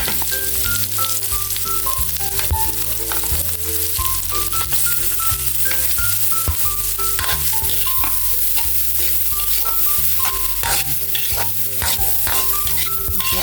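Butter with garlic and onion sizzles loudly and continuously in a pan for Filipino-style spaghetti, with faint stirring taps under the frying hiss and no talking.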